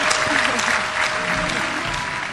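Someone clapping his hands overhead amid an audience, a dense wash of sustained applause from many hands filling the room, with faint voices underneath.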